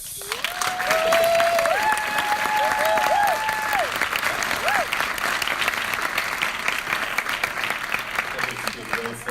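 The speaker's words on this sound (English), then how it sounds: "Quick round of applause for Tony Boyette" An audience at a storytelling event claps warmly for the storyteller Tony Boyette, a full continuous round of applause with whoops and sung or called voices rising over it early on before the clapping tapers.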